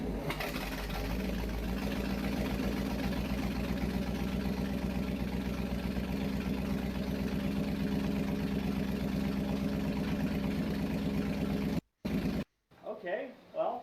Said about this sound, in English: I am going to go ahead and fire up the boat again.